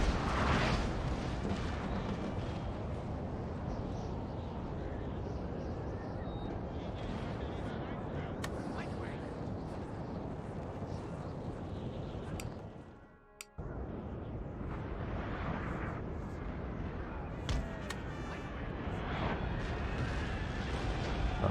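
Napoleon: Total War battlefield with artillery cannon fire, booming shots rolling over a constant loud din of battle noise, near and far, with a person talking over it and a brief drop out partway.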